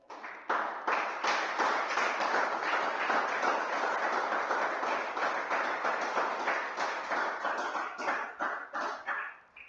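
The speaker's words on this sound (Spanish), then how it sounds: "Dame un aplauso al Espíritu" A church congregation breaks into sustained, dense applause that swells quickly and holds steady for several seconds before thinning into scattered claps at the end, heard without talk over it.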